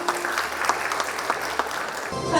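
Warm audience applause at a corporate ESG management awards ceremony, dense steady clapping throughout, close and fairly loud, with no talking over it.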